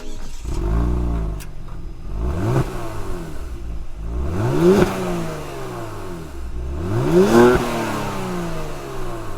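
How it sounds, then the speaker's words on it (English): A stock 2025 Genesis G70 engine with stock exhaust, valve open in Sport Plus mode, revs up hard three times in a row, each rev climbing in pitch then dropping back to a throaty idle, loud and close. "Stock everything, stock exhaust, and this is on Sport Plus mode, which means the valve's open."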